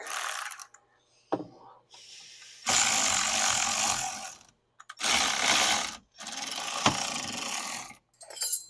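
Half-inch wrench ratcheting on the rear brake bolts of a Jetta TDI, loud bursts of rapid clicking in several separate runs with short pauses between, close up and without speech.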